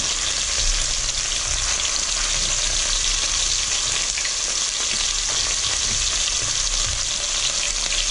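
Beef chunks searing in a Dutch oven, a dense unbroken sizzle and crackle of hot fat, steady and close with no voices.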